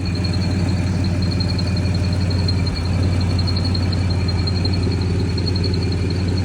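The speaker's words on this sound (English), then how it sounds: "it developed a very bad squeal." A high, steady supercharger belt squeal rings continuously over the idling engine of an Audi S5, loud and close, with a brief dip in the engine note midway.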